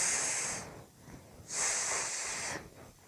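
A voice imitates a snake's hiss with two long, loud "sss" bursts separated by a short pause, close and alone with no other talk.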